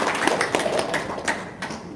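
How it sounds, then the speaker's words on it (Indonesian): Audience clapping on an Indonesian talk show, a short burst of scattered, uneven claps from a small group, moderately loud with no speech over it. "Sekali lagi dong, tepuk tangan dong."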